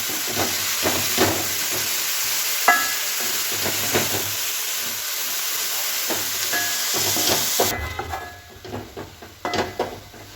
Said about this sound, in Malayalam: നല്ലപോലെ ഇളക്കി കൊടുക്കാം